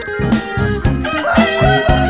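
Black Mongolian chickens clucking and crowing nearby in a loud, busy run of rhythmic calls, several birds overlapping with no talk over them.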